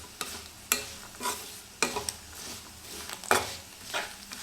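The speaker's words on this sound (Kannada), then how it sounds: "ಸಣ್ಣ ಉರಿಲಿ ಚೆನ್ನಾಗಿ ಫ್ರೈ ಮಾಡ್ಕೋಬೇಕು." Cashew pieces stir-frying in oil over a low flame, with repeated scrapes of a spoon against the pan over a soft sizzle, close and fairly quiet, no talking.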